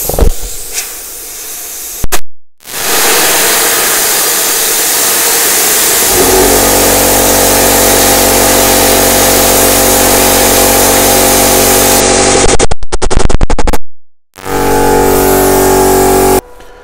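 A Parkside PPS 40 B2 plasma cutter at 35 A works through 5 mm aluminium sheet with 4 bar air pressure, a loud continuous hiss that deepens into a buzzing roar. Short gaps and softer air hiss bracket the cut.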